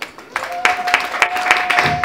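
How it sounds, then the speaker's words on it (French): Audience applause at a French-language gospel music broadcast, scattered claps building over about two seconds alongside a sustained tone, moderately loud. "Si on peut d'ailleurs l'applaudir aussi"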